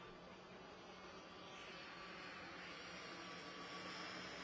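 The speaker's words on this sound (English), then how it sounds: "I didn't call the plane to come here." A jet airplane passes overhead at an outdoor political rally in a stadium, a steady broadband roar that slowly swells, faint and distant throughout.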